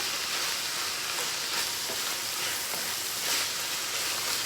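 Onions and garlic sizzling in a pan on high heat, a dense, continuous hiss of frying with faint crackles and stirring scrapes, close and steady with no talking.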